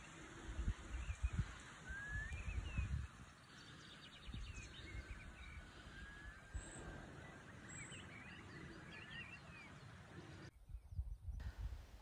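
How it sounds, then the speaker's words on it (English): A stream flows steadily through the Cheviot hills near Langleeford Farm on a quiet morning, with birds chirping and singing softly over the continuous rushing water. "listening to the stream and the birds singing."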